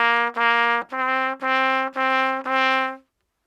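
A trumpet plays a bright, clean phrase from Hot Cross Buns: two sustained notes followed by four shorter evenly spaced notes stepping upward, close and clear, ending in silence.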